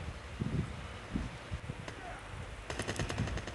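An AK-47 fires in a Call of Duty Mobile multiplayer match, rapid bursts of gunfire with a dense rattling stretch toward the end, under a wash of game noise.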